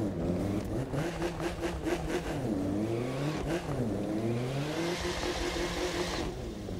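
Mazda RX-7 drift build in the racing game The Crew 2, its engine revving up and down in repeated rising and falling sweeps, loud and steady, with no talking over it.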